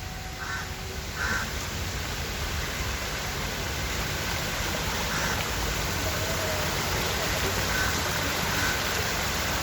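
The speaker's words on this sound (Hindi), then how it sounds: "देखिए कितना खूबसूरत एक आर्टिफिशियल वाटरफॉल बनाया है, झरना" Artificial waterfall at Waste to Wonder Park in Delhi, heard as a steady, broad rush of falling water filling the whole span, with faint duck-like calls and distant background sounds mixed in.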